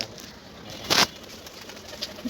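Pigeons just let out of their coop coo softly nearby, a low murmur broken by one brief louder burst of noise.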